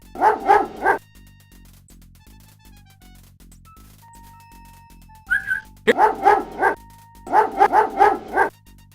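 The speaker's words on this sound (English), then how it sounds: "A bully of a dog terrorizes the poor ants as he playfully digs at their large anthill." In the King's Quest 5 video game, a dog barks in quick bursts of three or four sharp, loud yaps, with a synthesized music backing between and under the barking.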